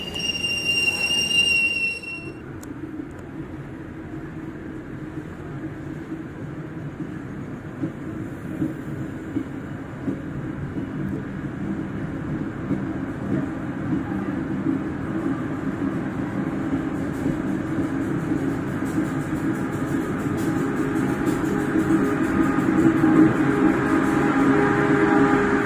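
Passenger train pulling out of Mojokerto station, with a steady rumble of rolling wagons and wheel noise from inside the carriage that grows gradually louder.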